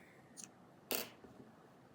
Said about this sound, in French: Et je peux couper mon fil.